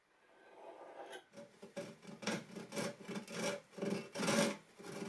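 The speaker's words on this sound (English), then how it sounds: "This freehand saw cut wouldn't be hard to adjust if it were off" Hand saw cutting freehand through a wooden stair nose at a miter, a steady run of rasping back-and-forth strokes that start after a second and grow louder, close and alone.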